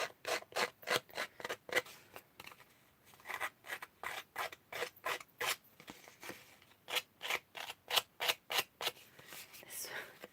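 Scissors blades are dragged repeatedly along the edges of card stock to distress them for a shabby chic handmade card, producing quick rhythmic scraping strokes, close and soft, in steady bursts with brief pauses between runs.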